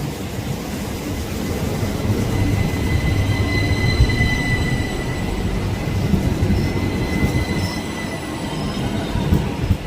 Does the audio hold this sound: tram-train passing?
yes